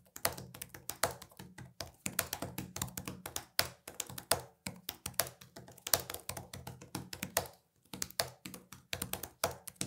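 Fingers type on the ASUS ProArt PZ13's detachable flat chiclet keyboard, a close, quick run of light taps and soft thunks with short pauses between bursts.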